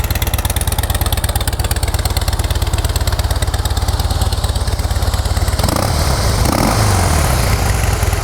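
A Harley-Davidson Softail Custom motorcycle idles close by, its engine giving a steady, loud, even throb throughout, with the rumble shifting slightly near the end.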